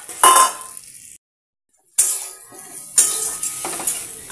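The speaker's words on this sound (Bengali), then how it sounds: "এবার আমি ভেজে রাখা আলুগুলো দিয়ে দেবো।" Pre-fried potatoes dropped into a pan of cooked-down spice masala for a shol (snakehead) fish curry: close, hissing sizzle bursts at each of three additions, with a brief silent gap between the first two.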